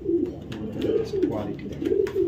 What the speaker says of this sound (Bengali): একটা মিলি রেসার কবুতর